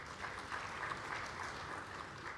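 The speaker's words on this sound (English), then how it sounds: "A warm round of applause for him, please." A seated conference audience at an aviation week event claps for a visiting ambassador, the applause faint and distant but continuous throughout the short moment.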